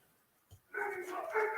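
Ranch dogs that are penned up let out a sustained run of barking and whining, starting after a brief thump and continuing loud and close to the end.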